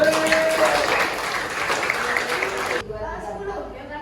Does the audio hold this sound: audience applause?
yes